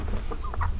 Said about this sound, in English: Wow, look, this is our chickens.